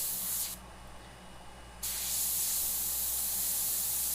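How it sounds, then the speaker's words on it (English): Paint hisses steadily from an airbrush with a broad airy spray, close and fairly quiet. The spray stops briefly partway through, then resumes. "This is airbrushing with it."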